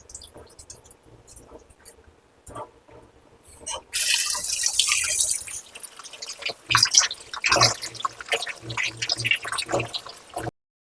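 Half a kilo of raw chicken washed under a running kitchen tap, with steady splashing water and drips into the sink that swell louder midway and continue in bursts, with no talking.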